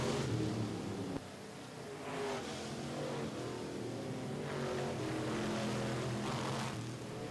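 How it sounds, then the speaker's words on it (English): Super stock race cars roar around Richmond Raceway on the final lap, a loud, continuous engine drone that stays steady throughout with a slight swell near the middle. "Jeremy Brits working out of back straight away for the final time"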